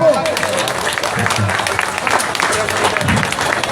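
A political rally crowd breaks into sustained applause, loud and dense, with voices and cheering mixed in under the clapping throughout.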